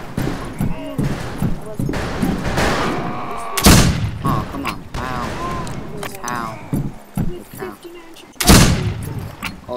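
Gunshots in the Fistful of Frags multiplayer shooter game: a couple of sharp, loud blasts stand out clearly amid ongoing game noise and someone talking excitedly over the action.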